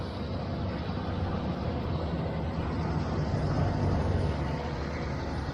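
A 1978 Ford Fairmont Futura engine idling right after a cold start, a steady low rough rumble close to the microphone, running alone without voices.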